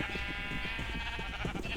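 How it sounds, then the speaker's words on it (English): A large flock of sheep in a video game bleats continuously, overlapping calls layered over a busy background, close and moderately loud. "We have to find Goldie down here in this gigantic pile of sheep"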